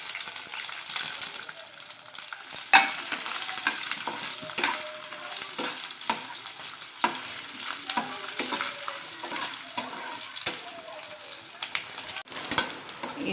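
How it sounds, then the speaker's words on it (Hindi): Bombay duck (bombil) fish frying in hot oil in a pan on a gas stove, a steady close crackling sizzle with occasional sharper pops and spatters, no voices. "अब मैं इसमें थोड़ा बोम्बिल तल कर लूँगी।"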